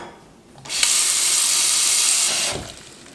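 Tap water gushes into a pot for cooking pasta, a loud steady rushing hiss that starts abruptly after a short quiet lead-in, runs for about two seconds and then cuts off.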